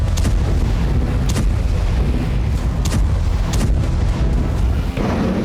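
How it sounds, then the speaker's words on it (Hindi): Bombardment in the Ukraine war: dense, continuous rumbling booms with repeated sharp blasts, loud and sustained throughout with no voices. "यूक्रेन में बम बरस रहे हैं"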